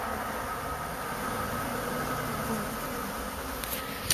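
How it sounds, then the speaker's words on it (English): A swarm of thousands of honeybees buzzing and fanning around a hive box, a dense steady drone close by with one brief knock at the end. "here I am on my hands and friggin' knees under thousands and thousands of bees"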